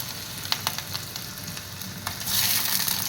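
Ginger and garlic fry in a hot pan for a Kerala-style curry, a continuous sizzle broken by light stirring taps, the crackle growing louder toward the end, with no talking.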